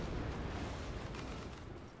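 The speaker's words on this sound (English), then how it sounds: "Anywhere I go, there just seems to be a bunch of explosions." A deep rumbling blast from an explosion in the video game The Saboteur, a broad boom that holds loud and slowly fades over a couple of seconds.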